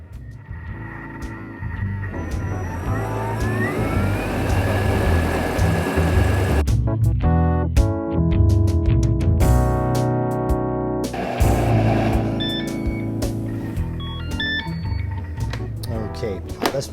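A Thermomix food processor runs at top speed 10, mixing cream cheese ice cream. The motor whirs loudly and its pitch shifts as the blades spin, and clattering, tonal bursts break in partway through.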